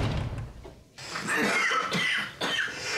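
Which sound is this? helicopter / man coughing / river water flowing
man coughing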